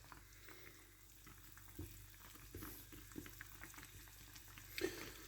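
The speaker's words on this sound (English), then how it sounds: "I'm literally boiling meat in sugars" Meat boils in sugary juices in a pan, a steady faint bubbling and sizzling with soft patter and occasional stirring clicks, continuous and close without talk.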